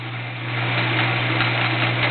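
Horizontal milling machine taking a smooth 40 thou cut without chatter, giving a steady, continuous mechanical hum with a strong low drone and broadband whir, close and unbroken throughout.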